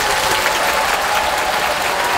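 An audience at a city talk concert in Geoje applauds, steady dense clapping from a large crowd that fills the whole moment without any speech.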